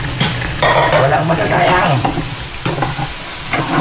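Pork sizzles loudly in a hot pan while a utensil stirs and scrapes through it in steady strokes, with a brief spoken phrase over the frying.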